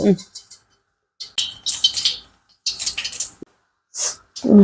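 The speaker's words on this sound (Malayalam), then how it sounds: "എണ്ണ ചൂടായി കടുക് ഇട്ട് കൊടുക്കാം" Mustard seeds tipped into hot oil for a drumstick-leaf thoran, crackling and spluttering in loud, sharp bursts separated by brief silences, close to the pan, with some talking between bursts.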